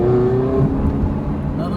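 A Ferrari 360 engine pulls hard and loud at full throttle throughout, with a steady low rumble and a rising whine, as the car bumps briefly over a speed bump midway.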